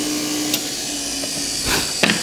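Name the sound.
drill press drilling wood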